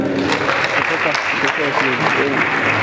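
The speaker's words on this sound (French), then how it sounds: "on l'applaudit très fort pour lui" A crowd claps steadily and enthusiastically at a comedy show in the Palais des Congrès, a dense wash of applause that continues throughout.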